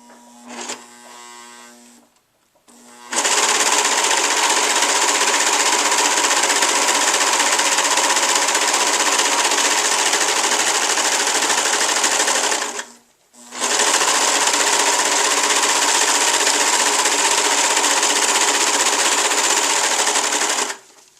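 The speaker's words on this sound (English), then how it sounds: "You drop your paddle down and you start to sew. Now this machine cuts off the excess fabric" A serger sewing machine stitches and trims fabric for homemade cloth pads, running in a loud steady whir for long stretches, with a brief stop near the start and another short pause partway through.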